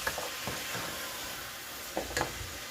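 Spoon stirring mushrooms and onions in a frying pan, with faint sizzling underneath and a few soft scraping knocks, quiet and close.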